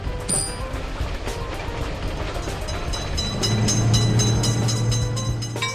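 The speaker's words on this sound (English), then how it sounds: "Train is coming." A train rolls through a level crossing in a railway traffic video game, a steady rumble of wagons with metallic clatter and a low hum growing louder toward the end, with no voices.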